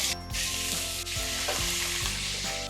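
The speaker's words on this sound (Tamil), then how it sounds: "கடலெண்ணெய் ஊற்றிட்டு கடுகு உளுந்து கருவேப்பிலை போடணும்" Mustard seeds, urad dal and curry leaves sizzle and crackle steadily in hot groundnut oil, loud and close, with small pops and a few stirring scrapes.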